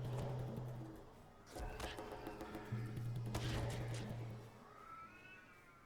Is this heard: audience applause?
no